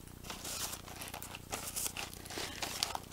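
Gift wrapping paper crinkles and tears close by and fairly quietly as a Secret Valentine present is opened. The rustling comes in irregular bursts, with no one talking.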